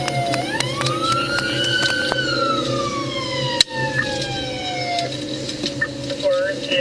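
A police motorcycle siren switches on during a chase, wailing in loud sweeping tones up and then down, with a sharp knock partway through and engine and traffic noise beneath.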